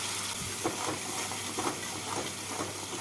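Masala spice paste fries in a pan with a steady, moderate sizzle and soft hiss, broken by a few faint stirring scrapes, with no voices.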